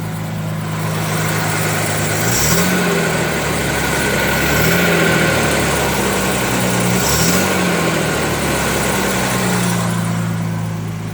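Mercedes-Benz W126, reported to be dying and warming up with revs climbing, heard from outside as a steady engine idle that swells with revs roughly three times at even intervals, loud and close, no voices.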